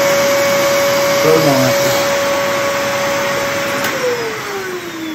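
A Numatic Henry vacuum fitted with a turbo electric power head runs with a steady loud whine and hum throughout, its pitch dropping slightly near the end, while a person speaks briefly over it.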